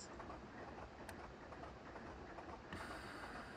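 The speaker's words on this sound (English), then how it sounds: "Okay, weird brake sounds" Brake sounds from a Class 24 diesel locomotive in Train Simulator, a steady broadband rushing and rumbling noise that runs throughout, with a brief sharp click near the middle and a brighter hiss rising toward the end.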